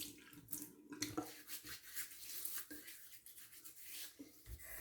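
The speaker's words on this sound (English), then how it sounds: "We'll go ahead and warm up some water." Water running from a bathroom tap into a sink, being warmed for a wet shave, splashing steadily up close with irregular surges and clatter as hands move under the flow.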